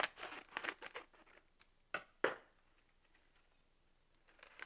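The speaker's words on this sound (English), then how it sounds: "so I'm going to use some scissors." Scissors snip open a paper packet of Lipton onion soup mix in a kitchen, a few quick close crinkles and cuts, then two sharper snips before quiet.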